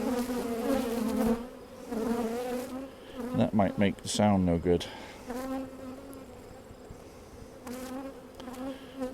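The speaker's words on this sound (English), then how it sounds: "The bees are happy, but they're going after the fur on the microphone." Honeybees buzzing loudly and close around a mite-infested hive, a steady droning hum with wingbeats swelling near the furry microphone cover while a person briefly speaks.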